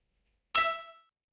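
A built-in "collect" sound effect from Scratch rings out once as a single bright metallic ding after a brief silence, then decays cleanly over about half a second with nothing else audible.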